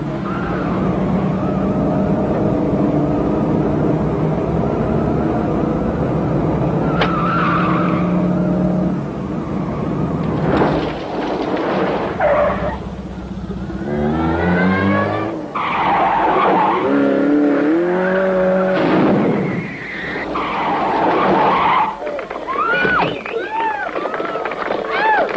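A 1987 Austin Rover Montego 1.6L with a five-speed gearbox is driven hard around a car park, its engine revving as the tyres let out repeated loud, wavering squeals and skids, close and intense.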